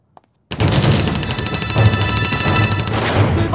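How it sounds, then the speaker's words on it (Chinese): Heavy machine gun fire rattles nonstop in a war film scene, several guns firing at once in a loud, dense, close barrage that bursts in suddenly after a brief single crack and keeps roaring without pause. "火力太猛了，机枪都有好几挺"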